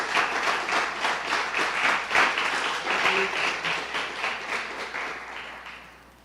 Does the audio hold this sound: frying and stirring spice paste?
no